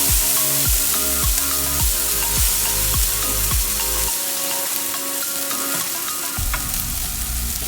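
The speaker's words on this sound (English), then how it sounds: "We're gonna add the beans. Make sure you mix it." Black beans are added to cooked garlic in a pan and stirred, giving a loud, steady sizzle with repeated rhythmic scraping strokes of the spoon, close up.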